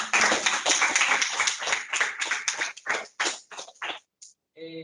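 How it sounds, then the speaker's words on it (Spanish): A university audience gives a professor a short round of applause after a question session, a dense burst of clapping that thins into scattered individual claps and stops, followed by a brief murmur of voices. "vamos a darle un pequeño aplauso en agradecimiento al profesor"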